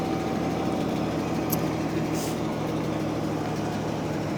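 A 1987 S10 Blazer with its original 2.8-liter six-cylinder engine idles after a cold start, a steady, continuous rumble with a constant hum throughout and no talking.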